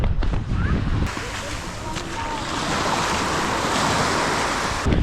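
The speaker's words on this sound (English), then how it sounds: "as we walk along its soft sand and listen to the waves" Sea waves wash steadily onto the soft sandy beach at Varkiza, Greece, a continuous close roar of surf with wind buffeting the microphone and brief voices near the start.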